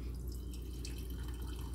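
Colored wax being poured during homemade candle making, a steady soft liquid trickle with faint dripping, continuous and close, with no talking.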